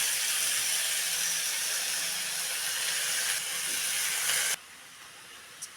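Washed ridge gourd pieces go into hot oil with red chilli powder in an iron kadhai, giving a loud, steady hiss that cuts off abruptly near the end and leaves a faint background.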